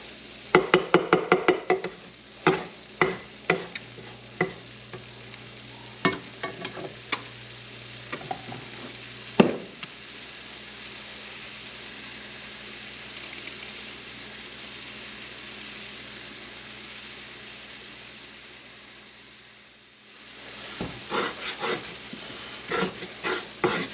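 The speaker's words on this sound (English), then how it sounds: "We're just going to try to cook the flour a little bit" Sausage, wild mushroom and ramp gravy with flour cooking in a pan, a soft steady sizzle under repeated scraping and stirring strokes that come in bursts near the start and end, with a quieter stretch of sizzle in the middle.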